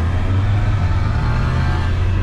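Volkswagen Passat tuned to 500 hp revving steadily, a loud, deep continuous engine drone heard close up with no pauses.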